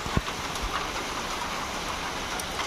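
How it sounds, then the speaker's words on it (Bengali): Heavy rain pours down steadily in a dense, even hiss, with a few louder drops landing close by on a surface. "এখনো দেখো বৃষ্টি কিন্তু খুব জোরেই হচ্ছে।"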